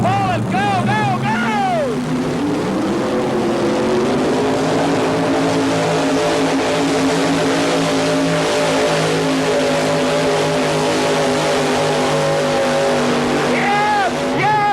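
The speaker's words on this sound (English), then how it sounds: "He's running about a 575 cubic inch motor. Let's pull it, Jim." A 575 cubic inch motor in a truck-pull competition roars loud and sustained, with the pitch climbing and then holding under load. An excited announcer and a crowd talk and shout over it at the start and the end.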